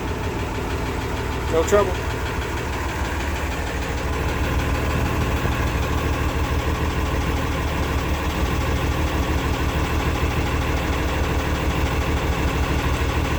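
A new tractor's engine starts with a brief crank, then settles into a steady, loud, knocking diesel-like idle that runs on evenly, with someone speaking briefly early on.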